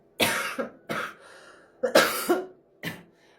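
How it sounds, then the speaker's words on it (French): Several dry coughs and throat-clearing bursts from one person during an energy-healing session, close and fairly quiet, spaced by short pauses. "Vous pouvez peut-être tousser aussi."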